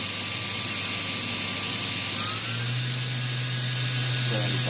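OKK KCV 600 machining center spindle spinning at 6,000 RPM, a steady high-pitched whine with a low hum beneath, a brief rising squeal partway through, continuous and close.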